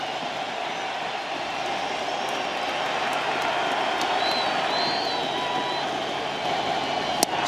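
A baseball stadium crowd at a Dodgers–Astros World Series game keeps up a steady, loud roar of cheering with no breaks from start to finish.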